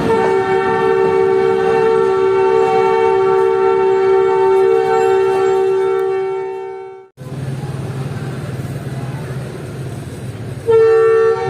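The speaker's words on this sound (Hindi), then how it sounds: "और ये हमारी ट्रेन एक लेवल क्रॉसिंग के पास आकर रुक गई है।" Passenger train on the Narowal-Wazirabad branch line in Pakistan sounds a long, loud, sustained horn over its rumbling run, then the horn cuts off, the low rumble carries on, and a brief horn blast returns near the end.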